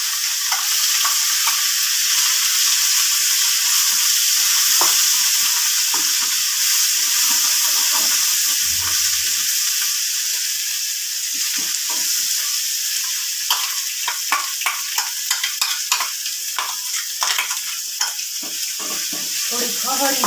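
Gravy for a Kathiyawadi-style mango curry sizzles and bubbles steadily in a pan over a low gas flame, a constant close frying hiss with scattered pops and stirring clicks.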